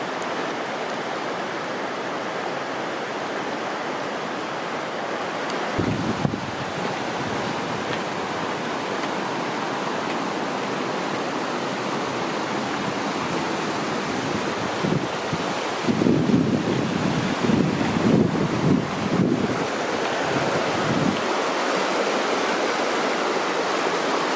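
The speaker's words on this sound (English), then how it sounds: "Then it gets real close, right on the edge of the creek" Creek water flows close beside a hiking trail toward hot springs, a steady broadband rush mixed with gusts of wind buffeting the microphone, swelling louder in bursts near the end and heard without any talk.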